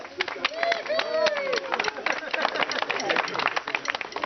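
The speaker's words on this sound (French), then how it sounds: "On peut s'applaudir bien fort, hein?" A crowd at a village festival blessing in Folx-les-Caves claps steadily in a dense, continuous patter, with voices carrying over the applause throughout.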